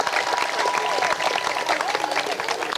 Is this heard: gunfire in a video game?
no